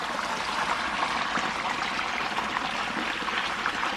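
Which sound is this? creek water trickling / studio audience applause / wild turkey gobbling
creek water trickling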